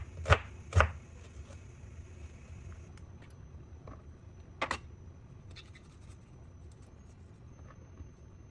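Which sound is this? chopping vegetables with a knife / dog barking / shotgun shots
chopping vegetables with a knife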